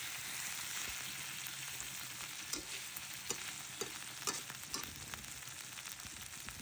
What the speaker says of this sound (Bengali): পেঁয়াজটা অনেকটা ভাজা ভাজা পেঁয়াজের মতো হয়ে যাচ্ছে